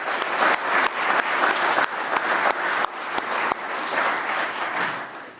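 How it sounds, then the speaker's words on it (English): A crowd at an engineering awards ceremony gives honorees a final round of applause, dense sustained clapping with a few sharper individual claps standing out, steady throughout. "everybody join me in a final round of applause for all of our honorees"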